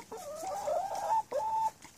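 A black rooster and hens in a backyard flock give a drawn-out warbling cluck, then a shorter second call, close and clear against quiet surroundings.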